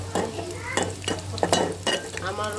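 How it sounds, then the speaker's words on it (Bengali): Onion frying in hot oil along with garlic and dried chillies, with a steady sizzle and repeated stirring scrapes in the pan. A low mains hum sits underneath, and no voice is heard. "আমি গরম তেলে পেঁয়াজটা দিয়ে দিলাম।"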